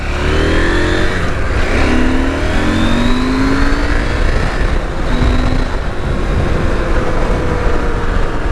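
A KTM 790/890 motorcycle accelerates hard on a road in South Carolina, its engine loud and close with rising pitch sweeps as it shifts up through the gears under steady rushing wind noise.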